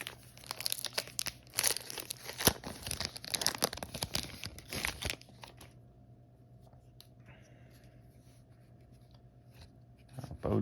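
Crinkling, tearing foil of a football card pack being ripped open close up, busy crackling for about five seconds, then quieter faint handling.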